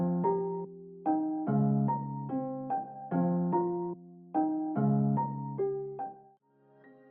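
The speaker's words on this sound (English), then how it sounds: "I have layered it with a darker piano from Sonology" Darker Sonology piano preset layered for a dark trap beat, plucked chord stabs in a syncopated repeating pattern with short gaps, each note decaying quickly, heard alone and fairly soft.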